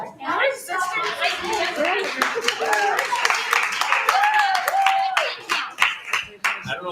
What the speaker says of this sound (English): I don't know if you're clapping for the joke.